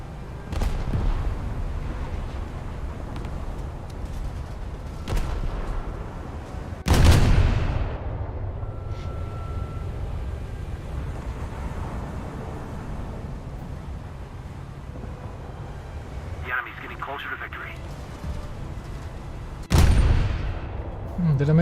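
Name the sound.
explosions and gunfire in a naval battle, from a video game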